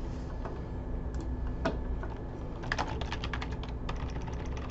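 Password keystrokes tapped on a computer keyboard while setting up a server system, a steady run of close, quiet clicks with a few louder key presses over a low background hum.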